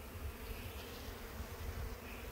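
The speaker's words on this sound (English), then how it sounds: "Let's see if we can move some bees out of the way." A steady, dense buzzing of many honey bees close by in a spring hive, low and continuous throughout, with no voices.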